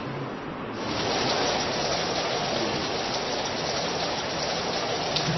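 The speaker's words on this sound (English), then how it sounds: "It's been raining for more than 10 days." Steady rain on Mount Fanjing during the rainy season, a dense and even hiss that rises quickly after a short quieter start and then holds at a constant loudness throughout.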